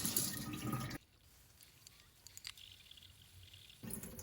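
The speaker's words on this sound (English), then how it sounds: "drain all the water and do a final rinse of the rice." Soaked rice getting a final rinse under running tap water, with splashing water up close at the start and end and a quiet gap with a few drips in between.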